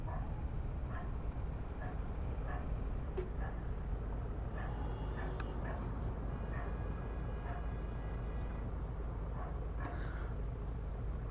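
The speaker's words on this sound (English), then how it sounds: "I do apologize for the dog barking in the background." A dog barks outdoors, faint and distant, in scattered bursts beneath a steady low rumble of bus engine noise from a driving simulator game.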